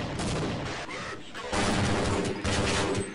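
Shotgun blasts in Half-Life Blue Shift hit loud and close amid other gunfire and combat noise, with a sharp surge of firing partway through and a voice talking over the fight.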